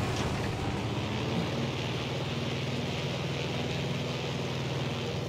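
Steady engine drone of an airplane in a video game, loud and continuous throughout with a broad rumbling hum and no gaps.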